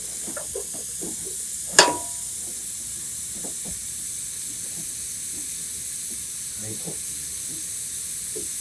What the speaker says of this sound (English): we're going to saute these until they get nice and tender inside